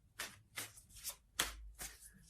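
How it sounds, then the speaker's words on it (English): Tarot cards being shuffled by hand, five or six soft riffling bursts at an uneven rhythm, quiet and close with no talk. "That's just sloppy shuffling and that shouldn't count."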